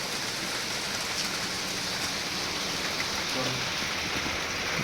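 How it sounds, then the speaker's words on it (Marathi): Steady early-morning rain at a campsite by Vasai fort, a continuous even hiss of drops on surfaces with no breaks, moderately loud and close, with no clear voices over it. "इकडं पाऊस आला आहे"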